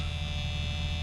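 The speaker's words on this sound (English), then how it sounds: "Listen to that buzz." A 1979 Cadillac Deville warning buzzer sounds with the headlights on and the driver's door open, a steady continuous electric hum held unbroken at even loudness throughout, alone with no voices.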